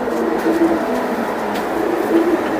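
A Pakistani Kasuri pigeon with red eyes gives a few soft, low coos over a steady background hum.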